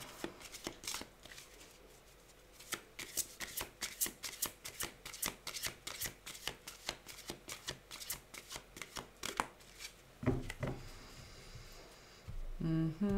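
Tarot or oracle cards being shuffled by hand, a close run of quick papery riffles and slaps in an uneven rhythm, then a few louder knocks and shuffles as the deck is cut near the end, with no talking.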